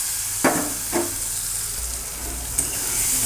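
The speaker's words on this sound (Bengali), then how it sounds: "এবার এর মধ্যে ভেজে রাখা আলুটা দিয়ে দেব।" Fried potatoes go into a cooked-down spice masala in a pan, sizzling steadily up close with a few sharp stirring scrapes and spoon knocks, no voices.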